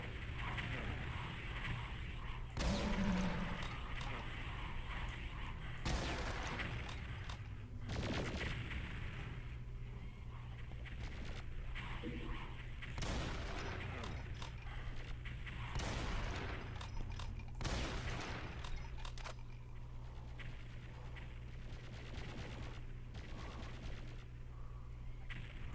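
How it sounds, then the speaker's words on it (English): Rockets and gunfire in Brutal Doom 64, with Revenant monsters firing shoulder rockets: repeated sharp blasts and bursts of shots over a steady low game rumble, loud and continuous throughout. "Revenants, watch those shoulder rockets!"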